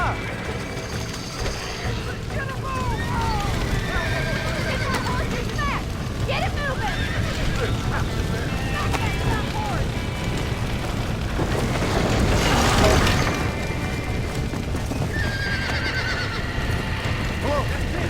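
Horses whinny and snort amid a steady bustle of hooves and background commotion in the video game Red Dead Redemption, with a louder surge of noise partway through.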